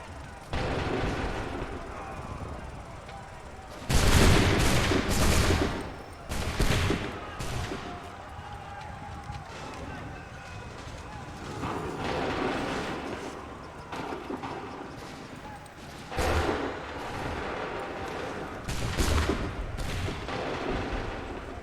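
Repeated volleys of musket and cannon fire in the Assassin's Creed III game, booming in heavy bursts over continuous battle rumble, with voices shouting among the blasts.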